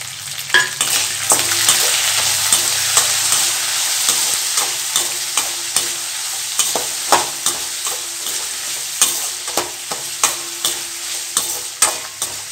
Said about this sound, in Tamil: வெங்காயம் லைட்டாக வதங்கினதும் கட் பண்ண தக்காளியும் சேர்த்துக்கலாம்.